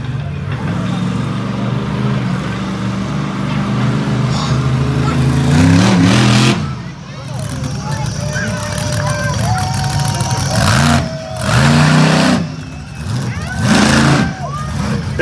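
A monster truck engine roars at a best-trick competition in Hilliard, Ohio, loud and sustained, then surges and drops in repeated bursts of revving. Arena noise and crowd sound run underneath.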